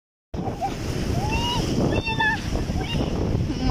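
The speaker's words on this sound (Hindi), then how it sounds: "देखिए लहरें आ रही हैं जा रही हैं" Ocean waves washing onto a sandy beach, a continuous loud surf wash with wind buffeting the microphone, and faint voices in the background.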